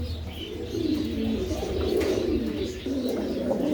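Pigeons coo at a small home pigeon farm, soft low throaty burbling repeated in overlapping rounds close by, with faint chirps and background noise.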